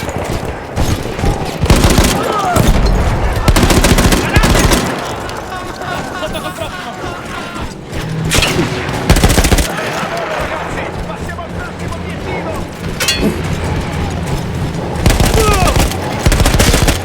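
A mounted machine gun in the World War I shooter Battlefield 1 fires repeated loud bursts, with stretches of rapid chattering fire broken by short pauses and booming battle noise throughout.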